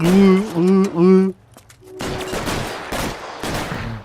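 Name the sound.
gunfire in the video game L.A. Noire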